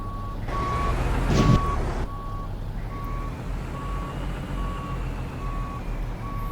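Reversing beeps from a truck backing a tanker trailer in American Truck Simulator, evenly spaced tones repeating about every half second over a steady low engine hum, with a brief hiss of air early on.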